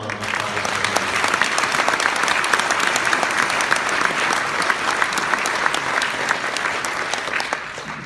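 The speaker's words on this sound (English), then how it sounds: "So how about one more round of applause?" A full room applauds a bishop at an award evening: a sustained, even wash of clapping that holds for about eight seconds and tapers slightly at the end, with no voices over it.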